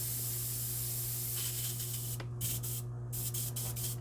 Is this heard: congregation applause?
no